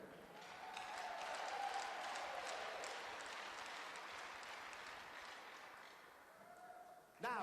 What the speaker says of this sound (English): Fans, please give a round of applause as we thank our 2026 senior class